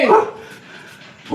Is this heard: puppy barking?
yes